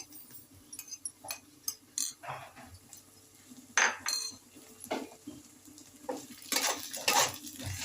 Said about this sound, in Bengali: পেঁয়াজ আর আদা রসুন বাটা আমি ভালো করে একটু ভেজে নেব।